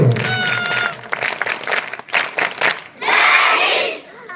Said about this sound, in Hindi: जोरदार ताली बजाइएगा।